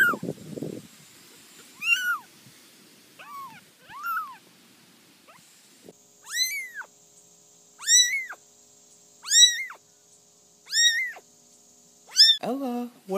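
A kitten gives a series of small, high-pitched meows, about eight separate mews spaced a second or two apart, close and fairly quiet, with a brief low rustle at the start.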